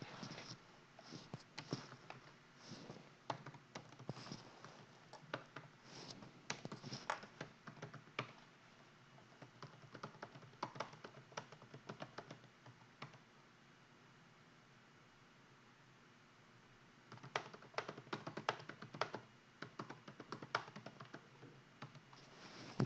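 Someone types on a computer keyboard into a chat log during a live stream, with close, rapid, irregular key clicks in bursts, a quiet gap of several seconds in the middle, then more typing.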